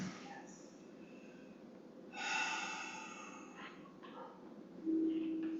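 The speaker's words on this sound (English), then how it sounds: "Let's take some deep breaths, shall we?" A congregation breathes deeply during a guided meditation at a church service, with slow, quiet inhales and exhales and one louder, breathy exhale midway, close and faint.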